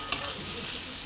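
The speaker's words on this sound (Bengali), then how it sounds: "এই যে ভাজা হচ্ছে" Chopped snake gourd and pointed gourd fry in a pan with black cumin and dried chilli, giving a short, close, steady sizzle with a couple of faint stirring scrapes.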